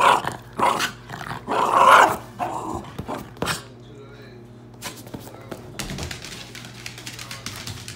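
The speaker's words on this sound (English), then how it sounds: "He's got the crazy dogs going right now." Several dogs bark and growl close by in loud, rough bursts that ease into quieter grumbling against a steady low background hum.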